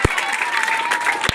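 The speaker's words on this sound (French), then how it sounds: "Applaudissez, applaudissez, applaudissez." Audience clapping at a school year closing ceremony in Kananga, a brief burst of loud, close, dense applause with a few sharp claps standing out.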